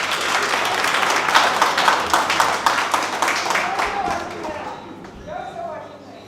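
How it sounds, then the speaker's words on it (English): Workshop audience applauding, a few seconds of dense, lively clapping from a room full of people that thins out and fades, with voices speaking near the end. "Can we clap for Alex?"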